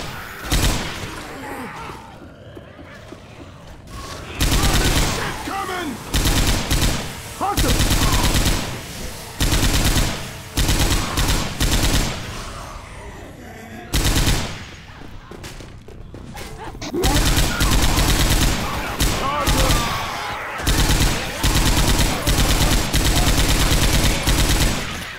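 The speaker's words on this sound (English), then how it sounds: "Grabbing the machine gun!" Machine gun fire in the Left 4 Dead 2 co-op campaign The Parish, rapid loud bursts repeating in long stretches with short pauses, alongside game sounds and occasional voices.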